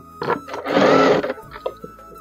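A sewing machine joins blouse pieces in a short, loud burst of stitching lasting about half a second, bracketed by brief softer mechanical sounds.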